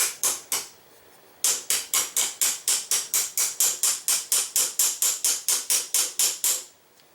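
A small hammer taps rapidly and steadily on a vise rail, two quick strikes, a pause, then a long even run of about two dozen sharp metallic hits while trying to free a corroded battery from a night vision scope.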